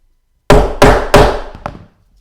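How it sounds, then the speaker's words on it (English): A hammer strikes a punch three times in quick succession to make a hole, loud close wooden thunks each trailing off, followed by a lighter tap. "use our trusty hammer and make a hole"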